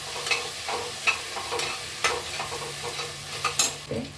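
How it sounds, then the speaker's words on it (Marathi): Fresh coriander being sautéed in a pan of ghee-cooked rice, with repeated spoon scrapes and knocks against the pan over a soft steady sizzle, close by. "कोथिंबीर थोडीशी परतून घेते."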